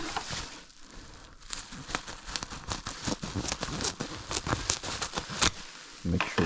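Bubble wrap crinkles and crackles while being handled and cut during packing of a sold eBay item, producing a busy run of close, irregular crinkling and tearing sounds throughout.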